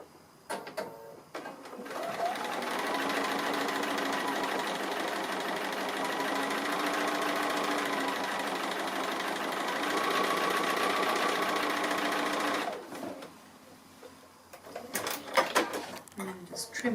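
Steady whirring hum of a sewing machine stitching a tree applique on a quilt, running continuously and close for about ten seconds before stopping, with a voice talking at the start and end.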